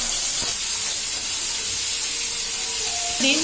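Hot oil sputters and hisses in a kadai as pabda fish fries, a continuous sizzle with a few sharper spits, close and fairly loud.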